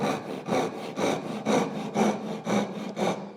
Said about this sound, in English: go back through the cut, recut it, and it'll open that kerf back up